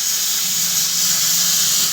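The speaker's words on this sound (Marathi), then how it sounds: "पाणी हे होते आमच्या कुकरमधून" Steady high hiss of steam and water escaping from a pressure cooker of dal on a home kitchen stove, continuous and fairly loud throughout with no pauses.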